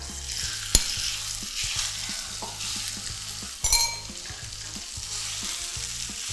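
Minced pork mixed with salted fish hisses and sizzles in a pan with garlic, a close, steady fry broken by occasional scraping stirs and a couple of sharp pops.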